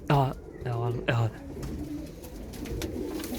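A yellow Iranian male pigeon coos in a few deep, rolling calls at close range, followed by softer bird sounds as someone talks in the background.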